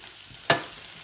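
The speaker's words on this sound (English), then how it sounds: "I might let those onions brown up a little bit more." Onions frying in a pan, with a soft steady sizzle broken by one sharp scrape or clack midway, close and alone without voices.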